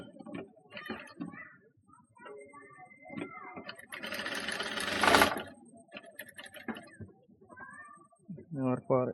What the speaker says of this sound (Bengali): তো কিনার দিয়ে এভাবে সেলাই দিয়ে নেবেন।